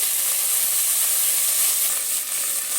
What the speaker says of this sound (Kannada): ಈರುಳ್ಳಿ ಹಾಕ್ತಾಯಿದ್ದೀನಿ